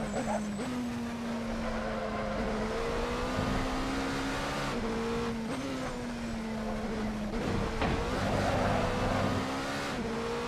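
A race car engine in a racing video game, a steady droning whine whose pitch climbs and then drops sharply at each upshift, repeated several times over the run.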